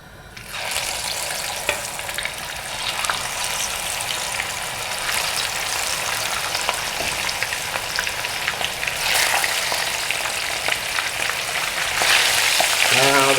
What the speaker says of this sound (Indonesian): Ini masih ada sisanya, saya goreng lagi.